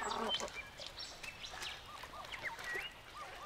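Breeding cormorants calling at a colony by a river, a scattered mix of faint, distant croaks and squawks from several birds over soft background noise.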